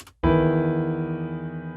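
After a brief noisy start, bass, vocal and guitar notes sound together as one sustained, slightly clashing chord that rings steadily and slowly fades.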